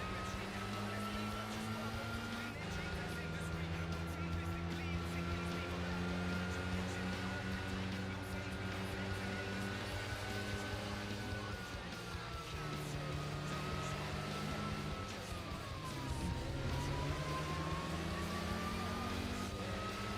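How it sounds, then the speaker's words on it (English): A steady, deep, baritone race car engine drone in Gran Turismo 4 holds for the whole stretch, its pitch rising and dipping slightly as the car revs and cruises. "That is a very baritone engine."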